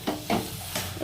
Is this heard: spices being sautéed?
yes